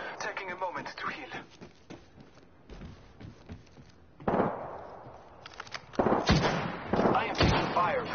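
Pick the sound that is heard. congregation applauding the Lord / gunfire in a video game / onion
gunfire in a video game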